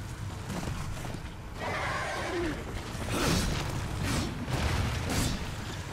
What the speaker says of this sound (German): hier kannst du doch ein Pferd rufen